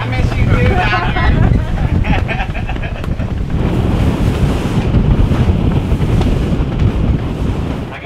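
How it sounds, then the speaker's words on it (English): Strong wind at sea roars and buffets the microphone continuously aboard a boat at anchor during lobster season, with waves washing around and voices faintly underneath. "That wind."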